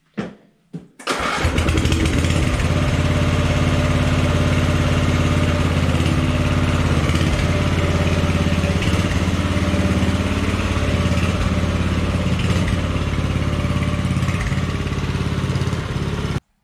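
A Toro Wheel Horse lawn tractor engine that had sat unused for over ten years cranks briefly, catches and settles into a loud, steady running drone, close by.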